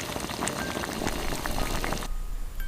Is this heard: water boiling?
yes